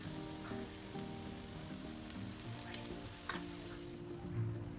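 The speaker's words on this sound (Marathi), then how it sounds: "नंतर पलटी करून दुसऱ्या साईडनं थोडे थोडं तेल लावून घ्यायचं" Beetroot cutlets frying in a little oil after being flipped, a continuous soft sizzle with a few faint clicks of utensils, close and fairly quiet, no voices.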